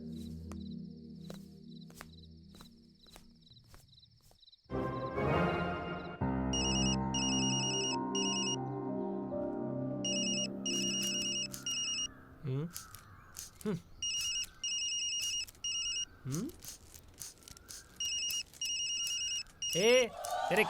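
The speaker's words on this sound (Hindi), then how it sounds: "फोन बज रहा है, सुनाई नहीं देता?" A phone rings in repeated electronic bursts, recurring over a background of music and voices talking.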